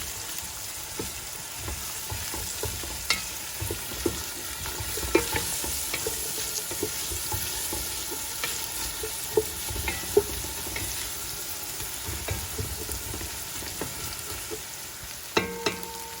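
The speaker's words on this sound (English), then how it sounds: "the celery, and then the carrots. I'm gonna let that cook for a few minutes." Celery and carrots with shallot sauté steadily in a pan, giving a continuous close sizzle broken by occasional sharp clicks and scrapes of stirring, with no voices.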